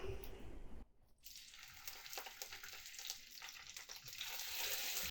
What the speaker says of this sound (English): So let's just pan fry it.